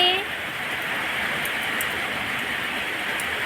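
Steady rain, falling for days on end, hisses evenly across a rooftop, a dense unbroken wash of sound after a brief high tone at the start.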